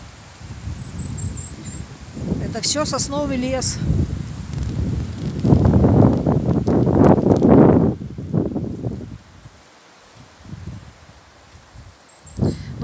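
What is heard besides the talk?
strong wind in a pine forest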